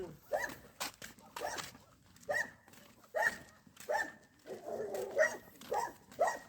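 A dog barks in short separate bursts, about eight barks spaced across a few seconds, fairly close and moderately loud, with quiet gaps between them.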